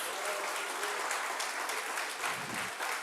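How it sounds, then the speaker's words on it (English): A round of applause at the Jamaica Civil Service Association's annual general meeting, as two members are recognized. Brisk clapping from the gathered crowd holds steady for a few seconds with no speech. "Could you please give them a round of applause?"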